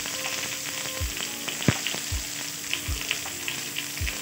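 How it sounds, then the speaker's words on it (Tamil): Onions frying in hot oil with curry leaves for chilli idli curry, a steady close sizzle with a few soft stirring knocks and scrapes spaced through it. "ஆனியனை வந்து நல்லா ஒரு கோல்டன் ப்ரௌன் வர வரைக்கும் நல்லா வந்து நம்ம வதக்கிக்கலாம்."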